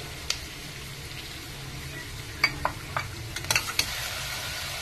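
Tomato sizzling in a hot frying pan while being stirred for vadakari, a steady soft fry with several sharp clinks and scrapes of a spoon against the pan.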